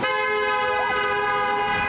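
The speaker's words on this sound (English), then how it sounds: "She's honking like it's not this much fucking room." A car horn honks in one long sustained blare, its steady harmonic tone loud and close over street background at an outdoor photoshoot, with no talk.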